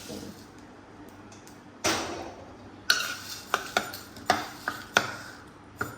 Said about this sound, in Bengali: এই ঝালের সব মশলাগুলো ভেজে নিচ্ছি আমি তেলের জন্য